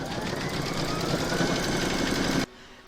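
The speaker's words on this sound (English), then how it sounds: "Pop it into your machine and stitch round number 4 to secure it." An embroidery sewing machine stitches an in-the-hoop apple coaster with a steady, fast mechanical whir and chatter of the needle that runs loudly and continuously, then stops abruptly near the end.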